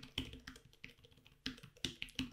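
Typing on the keys of a 3Dconnexion Keyboard Pro, a quiet run of soft, close key taps with irregular rhythm and a few slightly sharper strokes, with no voices.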